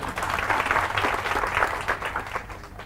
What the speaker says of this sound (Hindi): तो इनके लिए तालियां बजाओ एक बार।